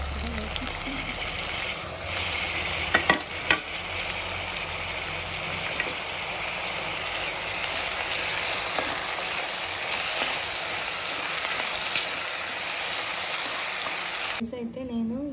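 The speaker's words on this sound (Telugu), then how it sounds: "బాగా చక్కగా ఫ్రై అయిన తర్వాత వెజిటేబుల్స్ అన్నీ వేసేసాం." Vegetables for veg pulao fry and sizzle steadily in a pot and are stirred now and then, with a few clinks of the utensil. The sound is continuous and close.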